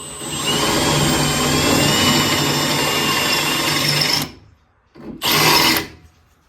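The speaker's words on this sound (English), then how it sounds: "Then we drill just the top layer," A power drill bores steadily into the steel body panel of a 1969 Trans Am during a rusted window channel repair, whining loud and continuous for about four seconds, stopping, then a short second burst.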